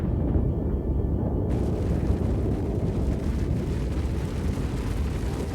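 Volcanic eruption of Vesuvius near ancient Pompeii rendered as a sound effect: a continuous, loud, deep roaring blast with dense low rumble that holds steady for several seconds without pause.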